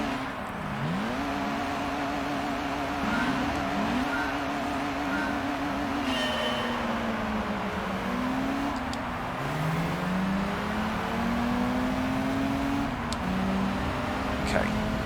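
Race cars in a Gran Turismo 3 game race, including a Nissan Skyline, with steady engine drone and rising and falling gear-change pitch sweeps throughout, under a narrator's voice.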